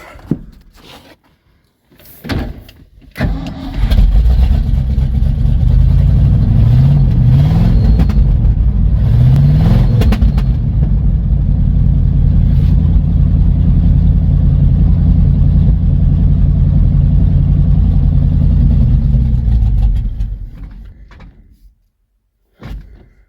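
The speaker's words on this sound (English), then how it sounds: "Dump some fuel in the carb, and she just fired right up." An old plow truck's engine, fired up after fuel was dumped in the carburetor, idles loud and close with a rough, steady rumble and a couple of revs, running about fifteen seconds before cutting off, with knocks before and after.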